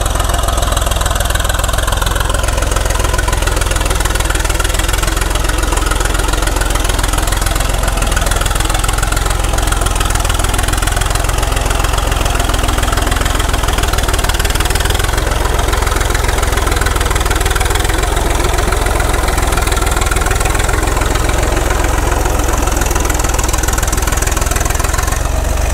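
Caterpillar RD6 crawler tractor engine labours at full load while pulling at a big stump, a loud, steady, throbbing low rumble with a knocking pulse that holds for the whole stretch, with no voices.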